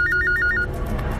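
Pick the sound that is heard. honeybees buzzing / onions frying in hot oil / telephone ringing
telephone ringing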